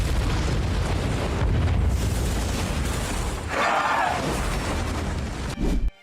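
A film explosion and its shock wave, a dense, sustained roaring rumble filling the scene for several seconds, with a brief hissing surge midway and a final burst before it cuts off.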